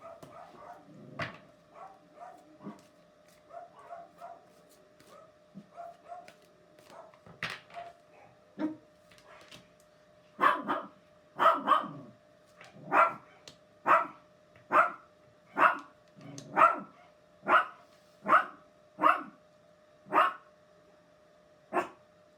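Pet dogs barking, starting with scattered, softer yips and whimpers that build into a steady run of loud, evenly spaced barks close by, with no talking.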